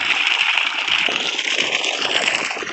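Water pouring steadily from a Shakti solar pump outlet into a farm field, a continuous close splashing rush that fills the whole stretch without pause.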